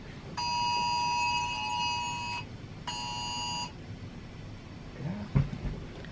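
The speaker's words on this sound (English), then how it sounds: "Oh, girl, Amber Alert. Let me grab this phone." An Amber Alert emergency tone blares from a phone in two loud, steady electronic bursts, one long and one short, separated by a brief gap, followed by quiet rustling and a soft knock as the phone is handled.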